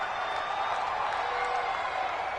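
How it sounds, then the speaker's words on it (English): A crowd in an American football video game on PS4 roars and cheers before a big third down involving the Vikings, a steady, dense wash of noise that fills the whole clip without letting up. "the crowd getting into it as we come up on a big 3rd down"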